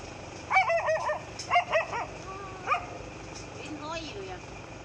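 A dog barks in a quick cluster of sharp, close yelps, then a few further barks and whines over a low rumbling background during a tense standoff with a 12-foot king cobra.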